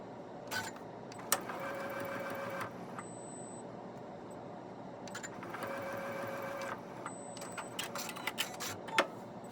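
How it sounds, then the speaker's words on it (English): A domestic sewing machine stitches along a joining seam line in two steady motor runs of a few seconds each, separated by brief pauses and small clicks, close and moderately loud with no talking. "I'm going to sew along this joining seam line."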